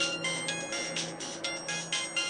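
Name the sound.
mobile phone ringtone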